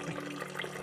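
Fertilizer-laden nutrient water runs through a deep flow technique hydroponic system driven by a pump on a timer, a steady, close, continuous trickling flow heard alone.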